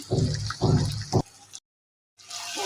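Water poured into a hot pan of fried-down chicken masala for chicken jhal fry gives a loud hissing sizzle after a few low thumps, breaks off into silence, then the hiss returns.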